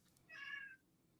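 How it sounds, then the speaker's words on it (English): A pet cat gives a single short, clear meow indoors, fairly faint and on its own without talk. "Oh, and I heard a kitty."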